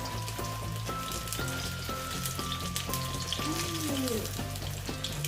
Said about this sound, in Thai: แล้วเราก็จะมาทอดให้กรอบเลยนะคะ